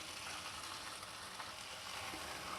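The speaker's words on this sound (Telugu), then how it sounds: "ఆనియన్స్ని ఈ ఆయిల్లో బాగా ఫ్రై అవ్వనివ్వాలి" Onions frying in oil for an egg pulusu curry, a steady, even sizzle and crackle close by that continues throughout without talk.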